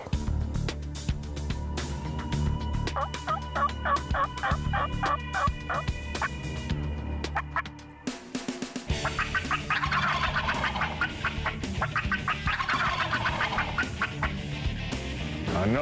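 Wild turkey jakes gobble out in a field, with loud, repeated gobbles and some duck-like quacking calls, and no one talking.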